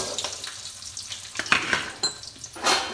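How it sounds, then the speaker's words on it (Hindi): Cashews and pistachios dry-roast together in a pan over a low flame, with scattered scraping and clicking from stirring and a soft, intermittent crackle, close by and with no voices. "काजू डाल दिए हैं और ये पिस्ता भी डाल दिया, दोनों एक साथ भून लेंगे।"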